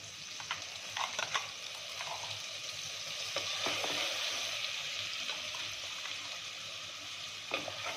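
Hing and ground masala fry in hot oil in a pot, giving a soft, steady sizzle with scattered faint clinks and scrapes of stirring, quiet and close.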